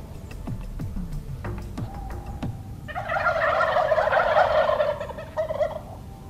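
Wild turkey gobbling on a snowy morning outdoors, one loud rattling gobble call rising after a few faint clicks and knocks, heard alone at moderate distance.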